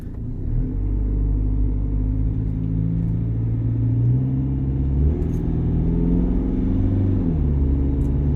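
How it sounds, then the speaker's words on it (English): Low, steady rumble of a BMW E60 engine while driving in D, smooth and constant with slight shifts in pitch, heard from inside the vehicle. "Car's driving nice and smooth."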